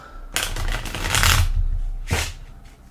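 A deck of game cards for the board game Race for the Galaxy being shuffled in two bursts, a long riffle followed by a short snap, close and crisp with no talk.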